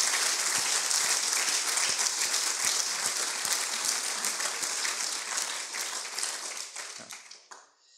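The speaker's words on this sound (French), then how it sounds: "Steve a largement mérité vos applaudissements, nourris pour son exceptionnel engagement." Sustained audience applause at a business association's annual meeting, dense many-handed clapping that fills the room steadily before thinning and fading out near the end.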